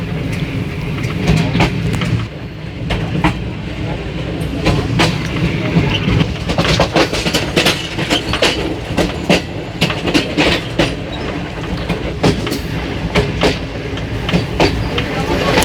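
Passenger train rolling along a dual line toward Rawalpindi, a loud steady rumble with repeated clickety-clack wheel beats over the rail joints throughout, and faint talk in the background.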